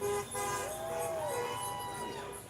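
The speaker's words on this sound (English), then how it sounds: "All the honking." Car horns honking at a No Kings street protest in Lakewood, Washington: sustained, overlapping toots from passing vehicles, moderately near, over a steady traffic rumble.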